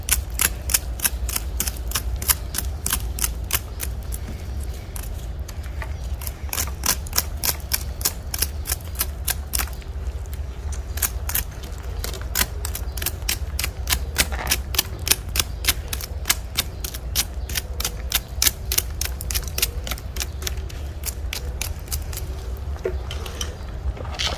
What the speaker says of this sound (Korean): 잘 사용하지 않는 가위로 겉표면만 긁어내는 겁니다.